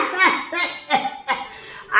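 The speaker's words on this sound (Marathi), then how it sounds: "खोकला का मधी मधी गचक खाया लागला" A man's repeated coughs come in short rasping bursts, four or five in quick succession, close and fairly loud, as a cough fit interrupting spoken performance.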